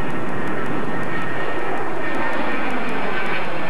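Loud, steady roar of a BAe 146 jet airliner's engines, a continuous broadband rush with a faint high whine on top, heard close and with no voices.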